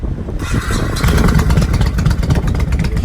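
A Honda Shadow 1100 motorcycle engine starts up close after a brief quiet moment, then settles into a loud, rumbling idle with a steady pulsing beat.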